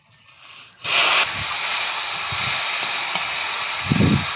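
Whole spices and two dried red chillies hit hot mustard oil in a pan, bursting into a loud, steady sizzling hiss that holds on throughout, with no talking.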